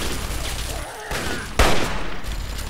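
Gunfire in the video game Fallout 3, a dense burst of loud, continuous shots and blasts filling the whole moment, with a sharper crack partway through.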